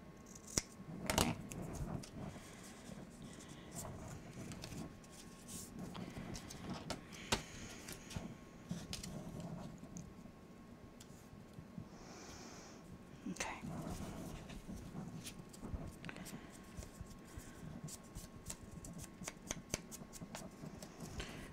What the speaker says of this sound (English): And then I'm going to cut them apart from each other.